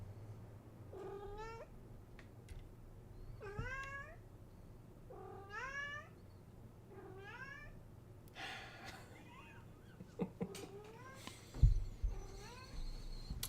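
A house cat meows repeatedly indoors, about five drawn-out rising and falling calls spaced a couple of seconds apart, fairly close and clear over a low steady hum, followed by a few quieter shorter mews and a brief thump.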